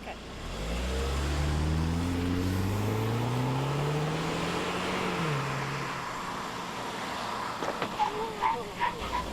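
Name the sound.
Saab car accelerating quickly on a driving course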